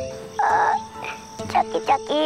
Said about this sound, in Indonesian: Ada kodok.